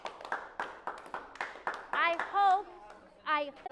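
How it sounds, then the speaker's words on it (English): A group on a trip to Israel claps in a run of evenly spaced, crisp hand claps that slow and thin out, followed by people talking and calling out nearby. "I'm going to ask again that you give yourselves a round of applause"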